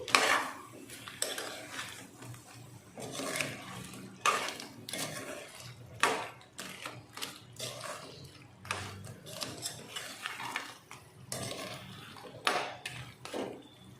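Crab curry being stirred in a pan, with a spoon clattering and scraping against the metal in irregular bursts of close clinks and knocks, and no talking.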